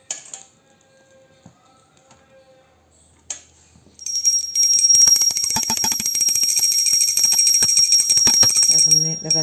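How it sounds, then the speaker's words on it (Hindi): After a few quiet seconds, a small puja hand bell starts ringing rapidly and continuously during a Sakat Chauth food offering, bright and loud, sustained for about five seconds. "अभी बजाएंगे घंटी"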